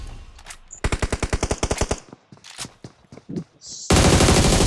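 Automatic gunfire in the mobile battle royale game BGMI, with one long rapid burst of evenly spaced shots, a few scattered single shots, then a dense sustained volley at the end, loud and close.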